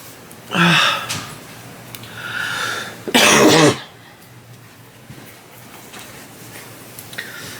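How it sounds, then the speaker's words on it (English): Two loud, harsh coughs, close up, each lasting about half a second, separated by a quieter rasping breath, with faint background noise between them. "And I am going to be coughing because I took my Mucinex late today."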